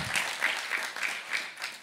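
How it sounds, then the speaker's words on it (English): Audience applause follows a talk at the Swift Heroes 2023 developer conference, a short burst of many hands clapping at moderate distance that stays steady for about two seconds. "You can clap, Stefano."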